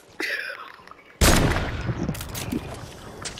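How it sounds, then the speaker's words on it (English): Explosions in a video game, two sudden heavy blasts with a lingering rumbling tail, one faint and one much louder. "Bro, stop throwing nades."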